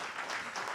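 Brief applause for band members at a live music session, a short burst of clapping heard at moderate distance.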